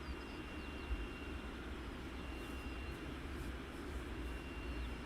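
Wizz Air airliner inbound to Luton Airport, a steady distant jet roar with low rumble sustained throughout, no talking over it.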